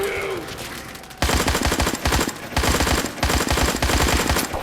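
Automatic gunfire in a horror time-loop video game, with bursts of rapid heavy shots that cut in after a quieter start, loud and close, broken by short pauses between volleys.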